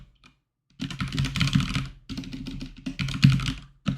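Fingers type on a computer keyboard in two quick bursts of clicky keystrokes close to the mic, with a brief pause between them and no talking.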